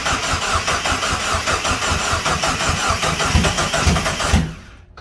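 A turbocharged Mazda Miata engine swapped into a Ford Festiva runs loudly and steadily on its first start, its dense mechanical roar holding for about four seconds before cutting off abruptly into near silence.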